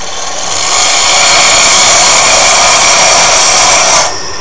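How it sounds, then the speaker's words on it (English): A wood lathe cutting across a meat tenderizer mallet blank gives a loud, steady, hissing cut that rises in the first second, holds for about three seconds and stops abruptly near the end. "so I'm going to go across it with the lathe"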